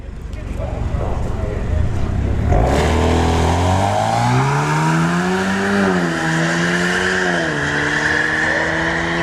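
A Chevrolet Malibu 2.0 Turbo launching down a drag strip, its engine revving hard and climbing through several gear shifts, loud and close, with a rising whine and steady tire and exhaust roar.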